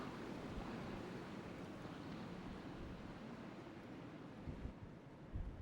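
North Sea waves wash steadily onto the shore, a dense continuous rush of surf mixed with wind noise, with a couple of slightly louder surges near the end and no voices.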